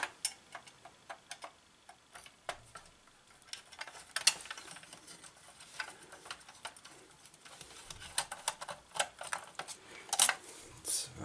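Screws being removed from an Asteroids arcade cabinet during restoration, heard as faint intermittent metallic clicks and ticks from a screwdriver, irregular and close, in a quiet room.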